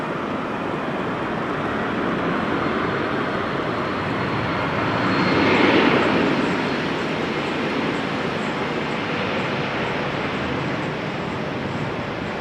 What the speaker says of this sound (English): This is KLM flight 1631, Embraer 190 to Venice.